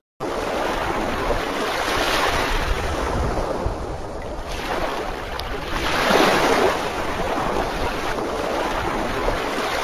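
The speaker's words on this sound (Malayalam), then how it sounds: "പെട്ടെന്ന് മഴ പെയ്തു." Continuous broad hissing wash rises and falls in waves, like a heavy downpour sweeping in, with no voices.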